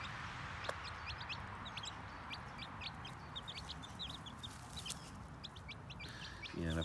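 Mother hen clucking softly while scratching the dirt, with high, thin peeps from newborn chicks scattered throughout against a steady outdoor background.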